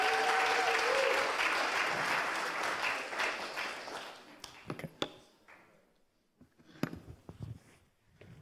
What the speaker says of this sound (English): One big applause for Absalini,